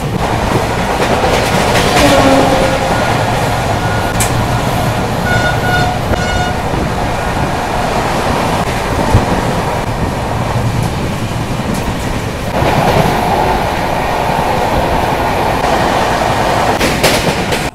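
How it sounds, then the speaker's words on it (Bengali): The Barbil Jan Shatabdi Express from Howrah rumbling steadily along the tracks at high speed, loud continuous roar with rhythmic rail clatter and a brief horn toot early on. "হেভি স্পিডে ট্রেনটা চলছিল এতক্ষণ, এখন একটু স্লো করেছে"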